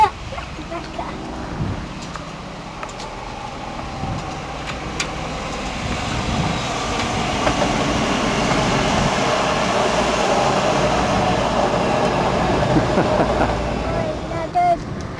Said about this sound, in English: Is this the stone train? Yeah, I think it's a stone train.